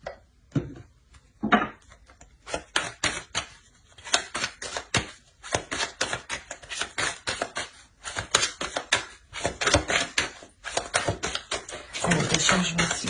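Tarot cards are shuffled and snapped down one after another, a quick run of crisp, close slaps and flicks with brief pauses, building into a dense flutter at the end.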